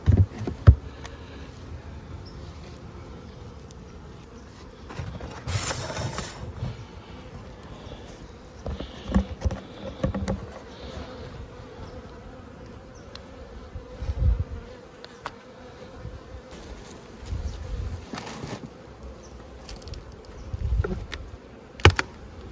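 Bees buzz around crowded, full beehives in a steady hum, with occasional louder swells as bees pass close and a few soft knocks of hive equipment.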